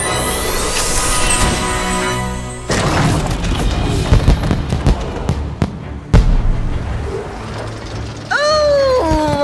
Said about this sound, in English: What lovely fireworks!